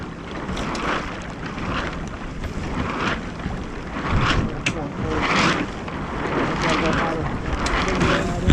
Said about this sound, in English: Yeah, we got a lot of waves coming here. It's gonna get ugly.